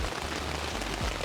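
Steady rain falls at a campsite, a dense hiss of drops hitting surfaces close by with no voices, lasting only a moment.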